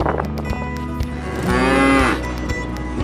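Cattle lowing in a park with farm animals, a loud, drawn-out moo swelling in the middle over a busy, rumbling background of other animal and ambient noise.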